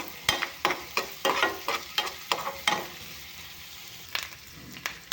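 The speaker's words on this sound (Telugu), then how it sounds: "ఆనియన్స్ వేసానండి అది బాగా ఫ్రై చేద్దాము" Onions and bitter gourd frying in a pan for a stuffed bitter gourd fry, with a steady close sizzle broken by about a dozen sharp scraping stirs at an uneven rhythm.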